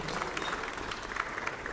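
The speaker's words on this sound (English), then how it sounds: "Shall we have a big round of applause?" Wedding reception guests clapping together, a steady, fairly quiet wash of applause heard briefly in the room.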